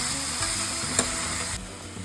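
Paneer pulao ingredients stirred and mixed in a hot pan, a steady sizzling frying sound with soft scraping of the stirring spoon and one brief clink, heard alone with no talk.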